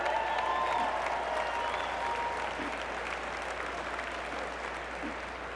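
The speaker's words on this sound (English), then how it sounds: "Give them a big round of applause, everybody." Room full of people applauding together as a speaker's talk pauses, steady dense clapping that holds fairly level for several seconds and eases off slightly toward the end.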